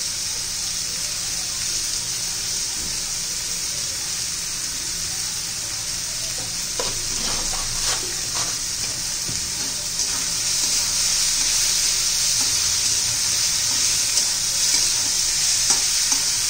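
Tomatoes with salt fry in a pan, making a steady hissing sizzle with occasional scraping clinks from a spoon stirring them. The sizzle grows slightly louder partway through.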